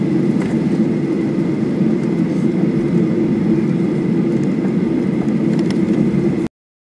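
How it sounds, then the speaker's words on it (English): Aircraft engines drone at Melbourne Airport, a steady loud whir with a persistent tone that runs unbroken and then cuts off abruptly. "Here we are at Melbourne Airport."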